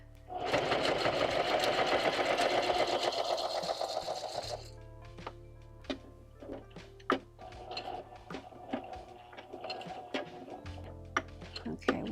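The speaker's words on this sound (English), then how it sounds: "I pull my needle down and I let her rip." A sewing machine stitches along the edge of art-paper junk journal pages with a steady continuous whir for several seconds, then breaks into short stop-start bursts and clicks as the needle is repositioned near the corner.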